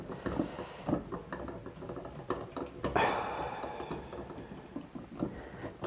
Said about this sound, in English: You just have to unscrew this.